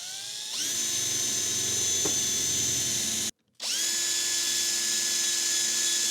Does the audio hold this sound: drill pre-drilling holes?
yes